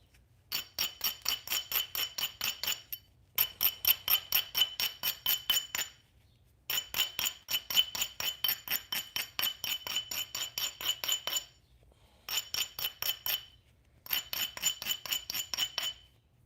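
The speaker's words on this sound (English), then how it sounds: "I'm using the rough abrader like a madman." A rough abrader scrapes rapidly along the edge of a stone point in quick bursts of gritty, clicking strokes, several runs separated by short pauses, close and fairly quiet.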